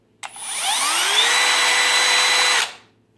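A Milwaukee M12 Gen 2 FUEL hammer drill has its trigger squeezed fully in a low clutch setting. The motor whine climbs sharply, holds a loud steady high pitch for about two seconds, then cuts off. It is close and alone, with no speech.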